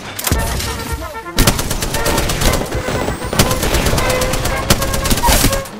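Rapid automatic gunfire in the battle-royale game Apex Legends, loud bursts of shots and repeated sharp cracks across the whole stretch with a short gap near the start, mixed with other combat noise.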